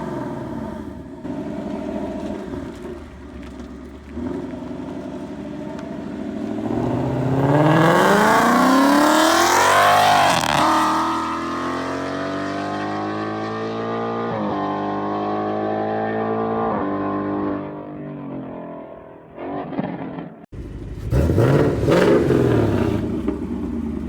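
A 2018 Ford Mustang fitted with Corsa long-tube headers idles, then revs hard into a loud rising roar, holds a high rumbling note, drops back, and gives another sharp burst of revs, all close up.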